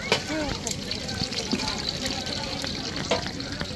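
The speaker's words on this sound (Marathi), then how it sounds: "इकडे चरबी भाजू लागले बघा तेलामध्ये." Goat fat frying in a large batch of oil, about a kilo, for a village fair mutton feast: a continuous crackling, bubbling sizzle under someone talking.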